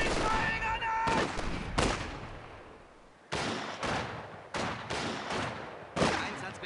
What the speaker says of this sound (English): Enemy's firing on us!